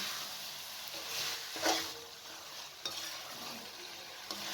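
Okra and minced meat being stirred together in a hot pan, with a continuous sizzle under repeated scraping strokes of a utensil and a couple of sharper knocks, close-up and without any voice.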